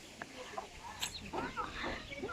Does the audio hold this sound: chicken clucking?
yes